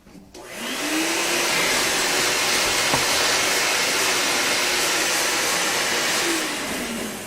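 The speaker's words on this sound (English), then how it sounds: "Vacuum that up." A vacuum cleaner runs steadily and loudly close by, cleaning up drilling debris from a Martin HD-28 guitar bridge, its whine rising at the start and winding down slightly near the end.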